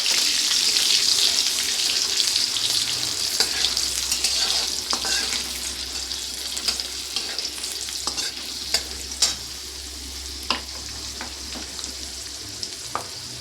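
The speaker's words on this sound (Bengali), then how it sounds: "দিয়ে দেবো কুচানো রসুন, একটু লাল লাল করে ভেজে নেব।" Chopped garlic fries in hot oil until reddish for a broccoli dish, giving a steady, loud sizzle with occasional sharper crackles and stirring scrapes, and no talking.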